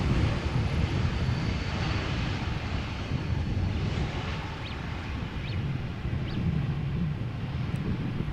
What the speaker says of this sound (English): Relatively new airplane, by the way.